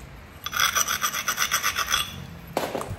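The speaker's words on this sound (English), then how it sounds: "I'm kind of starting to bevel the edge just a tad to strike off the other face." A flint edge is abraded to bevel it during flintknapping, heard as a close run of rhythmic rasping strokes, then a short pause and one final scrape.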